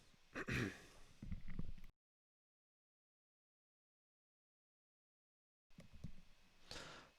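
A few muffled coughs and throat-clearing sounds up close, then a stretch of silence before more coughing.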